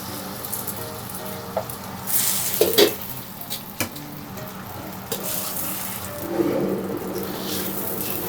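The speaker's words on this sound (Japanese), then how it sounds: "適量の油でご飯をね炒めて" Cooked rice is stir-fried in oil with squid and rape blossoms for a risotto-style fried rice, giving a steady close sizzle broken by clattering scrapes and stirring knocks of a utensil against the pan.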